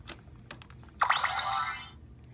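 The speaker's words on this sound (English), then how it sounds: "that sound is going to let you know that the brooch is ready for disguise mode" After a few soft clicks, a Sailor Moon Proplica transformation brooch on its stand gives a bright electronic shimmering chime for about a second, close and moderately loud, then fades away.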